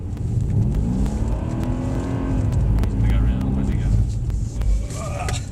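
A Mercedes-AMG C63 S in sport mode on a race track accelerates hard, its engine rising in a loud, close rumbling roar with shifting pitch, while people talk over it.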